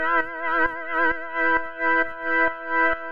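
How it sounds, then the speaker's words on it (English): Electronic synth tone for a warehouse techno track, a sustained harmonic note with fast, even vibrato wobbling its pitch in a steady pulse, loud and alone. "So I'm also going to give it a bit of vibrato."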